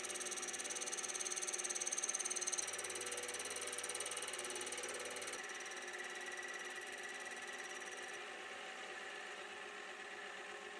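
A metal lathe takes a very light facing cut on the front surface of a rusty four-jaw chuck, giving a steady, fairly quiet mechanical whir with fine high-pitched cutting hiss and a faint ticking rattle. No one speaks.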